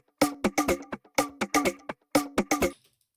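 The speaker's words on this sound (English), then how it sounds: "And then we got a percussion loop" A house music percussion loop sample, a tight syncopated pattern of short, bright hits with tonal ringing accents in grouped bursts, played alone at moderate volume with clean gaps between phrases.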